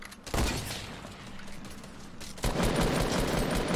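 Rapid bursts of automatic gunfire from a Fortnite match, a loud sustained volley, a slightly quieter stretch, then another heavy burst near the end, with no talk over it.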